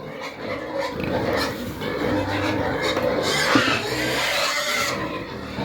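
Piglets two days old squeal and grunt in a pen on a New Zealand farm, a busy, continuous chorus of high cries with some low snuffling, fairly close, and a person speaks briefly among them.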